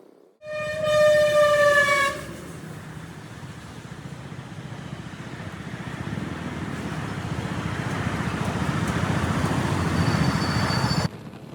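A long train horn blares at a railway crossing, then a heavy train rumbles past with rhythmic wheel clatter that grows steadily louder before cutting off.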